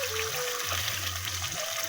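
Water from rinsing a spice bowl pours into a simmering fish curry, a brief continuous gush and trickle heard close up with a steady hum underneath.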